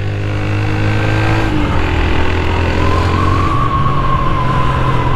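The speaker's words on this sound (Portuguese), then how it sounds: "o próprio barulho da sua moto te arrasta" A 160 cc motorcycle revs hard on a wet street near an avenue, its engine droning loud and close with rising and falling pitch sweeps through the whole stretch.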